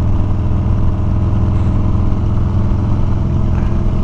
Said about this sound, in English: Just kind of downshifting and upshifting,